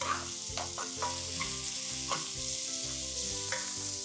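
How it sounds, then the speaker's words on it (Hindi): Onions with a pinch of salt sautéing in a pan for lauki kofta curry gravy, giving a steady close sizzle and frying hiss with occasional stirring scrapes, no voices. "प्याज को एक मिनट के लिए मैं सौते कर लेता हूँ पहले।"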